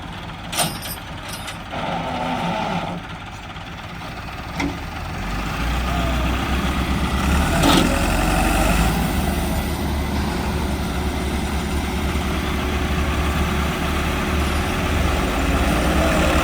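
Tractor engines drone steadily as they strain to pull a stuck Massey Ferguson 385 out of soft ground, a low continuous rumble that grows louder and holds, with a few sharp clanks early on.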